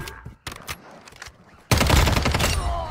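Gunfire in Warzone Mobile squad gameplay: a few isolated shots early on, then a sustained loud burst of automatic fire that continues to the end.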